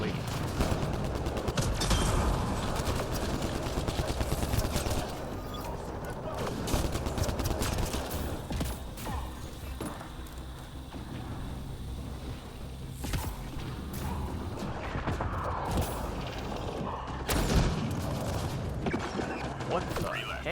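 Weapon fire in Mass Effect Andromeda multiplayer, including a flash cannon: dense, continuous bursts of gunfire and mechanical clatter running throughout, loud and chaotic, with scattered voices.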